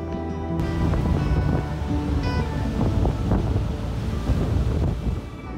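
Steady wind roars across the microphone along the Lake Superior shore in the Keweenaw, with surf churning underneath, loud and continuous.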